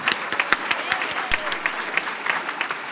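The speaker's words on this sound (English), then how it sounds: "let's give applause because you say you didn't hear me" Audience applause at an adult high school and high school equivalency graduation event, a dense steady wash of many hands clapping with sharp individual claps standing out, loud and continuous for the whole stretch.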